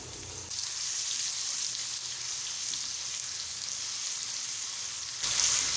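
Spices, ajwain, dried red chillies and ginger garlic paste fry in hot oil with a steady, close sizzle that swells briefly louder at the end.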